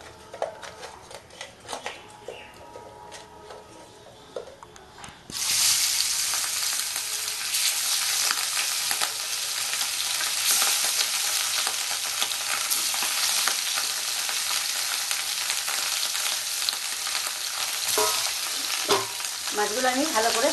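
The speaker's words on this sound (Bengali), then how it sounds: "নুন হলুদ মেখে আমি মাছগুলো আগে ভেজে নেব।" Fish pieces rubbed with salt and turmeric frying in hot oil; after a few quiet seconds with small clinks, a loud, sustained close sizzle starts abruptly and crackles on steadily, with a few utensil taps near the end.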